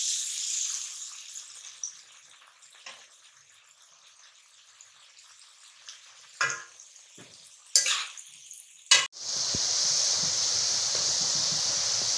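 Potato finger chips dropped into hot oil, a few faint clatters and splashes giving way to a steady, loud frying sizzle that takes over the final seconds.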